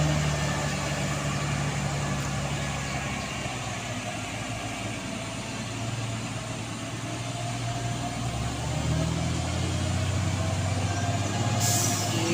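A heavy truck grinds up a steep hill in low gear, its engine droning steadily and loudly at close range for the whole stretch, and nobody talks.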